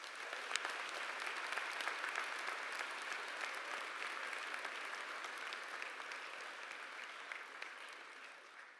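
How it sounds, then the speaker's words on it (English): Sustained applause from a theatre audience at a college graduate commencement ceremony, a steady dense wash of clapping that runs the whole time and tapers slightly near the end. "Let's give them a big round of applause."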